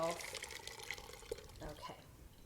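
Hot liquid poured from a pot into a strainer while making ricotta cheese, a splashing, trickling pour running steadily then tapering, close by with faint voices around it.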